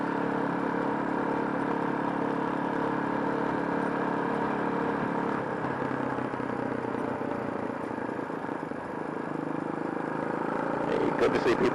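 Honda Hawk 250 motorcycle engine droning steadily through a ride on a morning street, a continuous mid-pitched hum with wind rush, strengthening briefly near the end.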